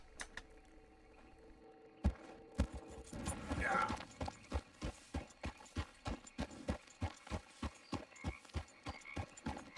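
Horse hooves clip-clop in Red Dead Redemption 2, starting after a brief rustle and settling into a steady, evenly spaced gait of loud, close hoof strikes that continues to the end.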